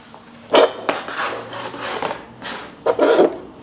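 A utensil scraping and flipping a burnt cookie in a pan, with a couple of sharp metallic clinks followed by longer rough scraping rubs, close and fairly loud, no talking.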